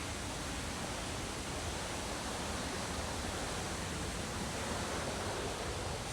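Waterfall at a riverside lodge in Laos, a steady, dense roar of rushing water that stays constant and fairly close throughout, with no voices.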